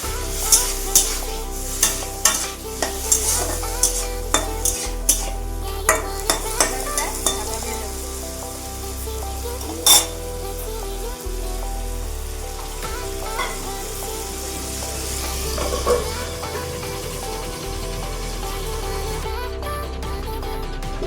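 Tomatoes with salt and turmeric are stirred in a pan for a Bengali tomato chutney. A spoon or spatula scrapes and knocks rhythmically against the pan over a steady sizzle, with repeated clacks early on and no talking.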